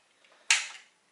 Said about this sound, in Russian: взводится затвор, или как его назвать, механизм